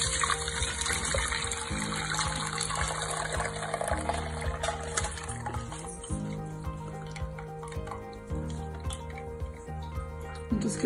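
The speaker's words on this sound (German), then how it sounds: "Bevor ihr die Farbe benutzen könnt, müsst ihr sie dann erst noch durch ein Sieb gießen." Homemade plant dye, including a turmeric mixture, poured through a sieve for tie-dyeing a cotton T-shirt: a steady close trickle and drip of liquid running on for several seconds, with faint background music.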